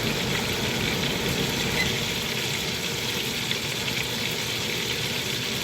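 Burger patties fry in about an ounce of avocado oil, giving a steady, close, dense sizzle that holds evenly from start to finish with no talking over it.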